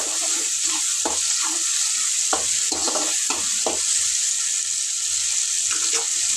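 Ginger garlic paste fries in a pan with a loud, steady hiss of sizzling oil, punctuated by a few spoon scrapes against the pan.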